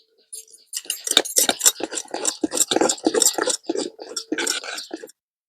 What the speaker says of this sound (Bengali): এবার খুব ভালোভাবে কিন্তু এই হাতাটা দিয়ে মিশিয়ে নেব।